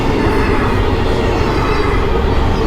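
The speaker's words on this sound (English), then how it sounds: "in case you couldn't hear over top of this train" A train rolls by on a back road near Front Royal, Virginia, a loud continuous rumble of wheels and rail cars heard up close for the whole stretch.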